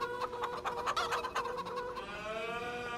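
Chickens cluck and squawk in a farmyard in the Farm Sim 25 video game, a close, busy run of rhythmic clucks and calls rising into a drawn-out crow-like cry, with no talk over them.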